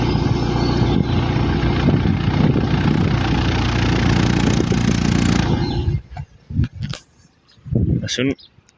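A car's exhaust rumbles steadily at idle for about six seconds, loud and close, then cuts off, leaving short bursts of someone talking.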